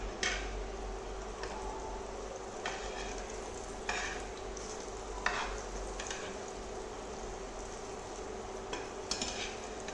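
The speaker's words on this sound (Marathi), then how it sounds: "आता यांना दुसऱ्या बाजूने देखील आपण पलटी करून फ्राय करून घ्यायची आहेत" Eggplant slices frying in a pan, a steady low sizzle with occasional light scrapes and clicks of a utensil, close up, with no talking.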